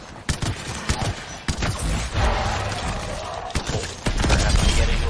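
Pistol fire in the video game Anthem, a string of sharp punchy shots at irregular intervals, close and loud, with mechanical clatter and a busy combat background.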